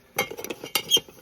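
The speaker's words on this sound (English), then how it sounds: "A family member gave me this pot and pan set, and it's pretty well perfect for this kind of thing." A set of camping pots and pans is handled at close range, giving a string of light metallic clinks and clatters in uneven bursts with quiet gaps between them.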